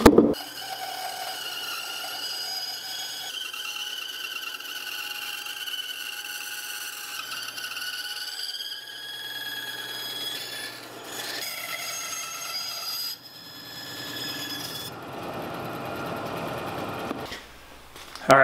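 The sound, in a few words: bandsaw cutting out a wooden fish carving blank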